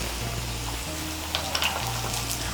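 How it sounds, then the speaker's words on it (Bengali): Ginger and garlic paste frying with fried onions in a pan, a steady close sizzle with light scraping stirs cutting through it and no talking. "আদা বাটা রসুন বাটাটাকে মিশিয়ে নেব"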